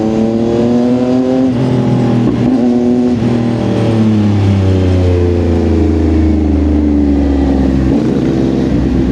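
A CFmoto 675 NK motorcycle revs and shifts through its gears on a night ride, the engine note climbing and dropping in steady pulls, loud and continuous with no talk.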